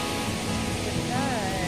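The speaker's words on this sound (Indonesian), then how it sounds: "Nama air terjunnya adalah air terjun Alang-Alang atau Alang-Alang Waterfall." The Alang-Alang waterfall in Singaraja, Bali, gives a steady, even roar of rushing water that fills the whole stretch without a break, with a faint thin whistle-like tone rising near the end.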